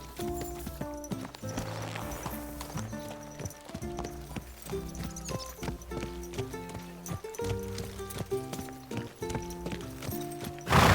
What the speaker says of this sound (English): Watch out with that horse!